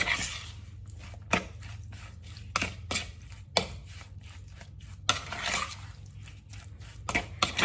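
Chicken pieces mixed by hand or utensil with a soy sauce marinade in a bowl: wet squishy stirring broken by several sharp knocks against the bowl, close and alone, with no talking.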